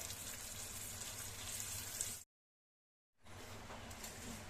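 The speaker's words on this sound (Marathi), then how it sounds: "बटर क्यूब मेल्ट करून घेतलंय आणि आता त्याच्यावर आपले टाकोज मीडियम फ्लेमवर फ्राय करून घ्यायचे" Tacos frying in melted butter over a medium flame, giving a faint, steady crackling sizzle like light rain. It cuts out completely for about a second, then comes back at the same quiet level, with no one talking.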